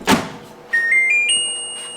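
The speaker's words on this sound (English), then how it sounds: "Close the door." A steamer oven door shuts with a single sharp thud, then a short series of bright electronic beeps follows. The sounds are close in a quiet kitchen.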